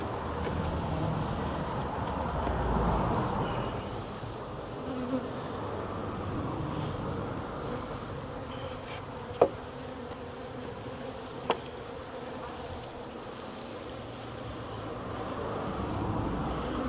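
Honey bees hum steadily in an open hive colony during an inspection, a close, continuous buzzing drone with a couple of brief sharp clicks partway through.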